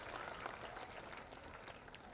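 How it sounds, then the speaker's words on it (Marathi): Loud, sustained applause from an assembled crowd honouring a school's teachers and non-teaching staff, dense clapping that runs steadily throughout with no talk over it. "एकदा जोरदार टाळ्या वाजवून त्यांचा सत्कार हा आपण सर्वांनी केला पाहिजे"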